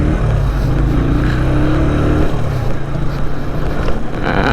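An off-road vehicle revs hard as it pulls a wheelie at the start of a flat-out riverbank trail, a loud, close, continuous engine roar with rough low rumble and rising pitch throughout, no voices over it.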